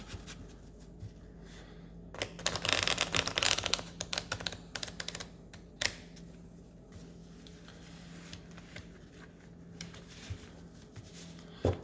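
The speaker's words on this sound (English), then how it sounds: "So first I'm going to do a shuffling." Tarot cards being shuffled by hand, a quiet run of soft papery riffling and flicking that swells into a denser burst of card noise in the middle, then trails off into sparse taps.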